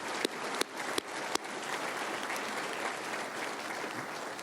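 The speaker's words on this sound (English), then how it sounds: "Please give him another round of applause." An audience at a training conference keynote in St. Louis applauds the national anthem singer, with a few sharp, close claps standing out at the start before the clapping settles into a steady, moderately distant wash.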